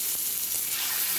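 Fish frying in a pan with mint gives a dense, even hiss of sizzling oil, loud and close, with a couple of soft knocks and no voices.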